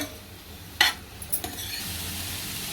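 Mixed vegetables stir-fried in a pan over medium gas give a soft, steady sizzle broken by a few sharp scrapes and clinks of a spatula against the pan, heard close with no voices.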